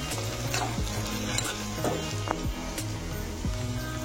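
Okra stir-frying in a pan as red chili powder and turmeric are mixed through, with a steady sizzle under repeated scraping and stirring strokes, close and continuous, no voices.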